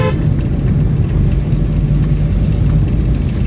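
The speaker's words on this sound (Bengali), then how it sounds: "এই মুহূর্তে গ্রামের সরুপথে ড্রাইভিং করছে" A car drives along a narrow village road, its engine giving a loud, steady low rumble that holds without a break from start to finish.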